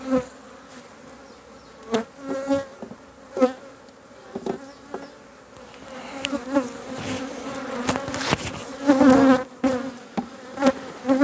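Honey bees buzz loudly and continuously up close at an open hive ready to swarm, a dense droning hum with occasional louder passes and bumps.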